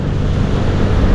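Sea water and waves at the Dipolog City boulevard, a loud, steady wash of surf with gusty wind buffeting close to the microphone throughout.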